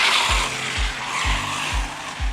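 Small RC car sliding across a yard, its tires squealing in a steady scrubbing hiss, with five short low thumps at regular intervals under the skid, loud and close.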